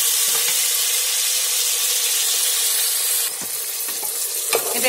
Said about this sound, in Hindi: इसको हम अच्छे से 1 से 2 मिनट के लिए ऑयल में ही फ्राई कर लेंगे।